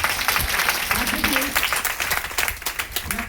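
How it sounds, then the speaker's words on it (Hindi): A meeting crowd in a Patna branch hall applauds loudly for Ratna Madam, with dense clapping that turns more scattered and rhythmic toward the end, with voices mixed in. "एक जोरदार ताली रत्ना मैडम के लिए।"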